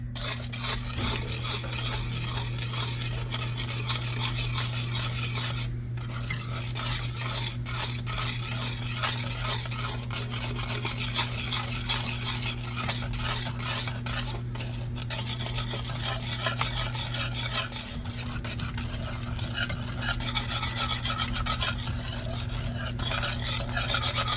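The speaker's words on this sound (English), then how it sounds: "You have to keep stirring it or this will burn" A spoon scrapes steadily around a pot of cooking caramel frosting, a continuous rasping stir with faint sizzling and occasional clinks against the metal, under a low steady hum.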